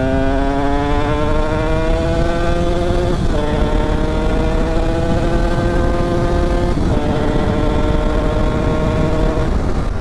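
A Yamaha DTR 125 two-stroke motorcycle revs hard while riding, its buzzing engine note climbing through the gears with brief dips at each shift, loud and close throughout.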